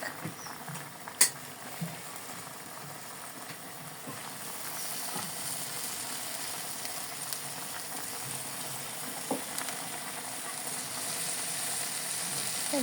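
Pipul greens fry in a pan with sliced potato, giving a steady, close hiss and sizzle with occasional faint stirring clicks, no talk.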